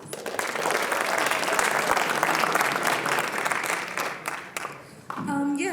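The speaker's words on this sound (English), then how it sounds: "y'all give her a round of applause" A school audience at a student writers expo claps in sustained, dense applause for a few seconds, tapering off near the end as a voice begins to speak.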